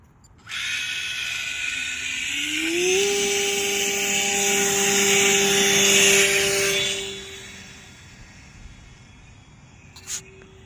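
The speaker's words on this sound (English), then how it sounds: "let's go ahead and get this thing up in the air and see if it flies" A V-tail RC aircraft's electric motor spins up to a loud, steady high-pitched whine, holds for several seconds, then fades away as the plane flies off into the distance.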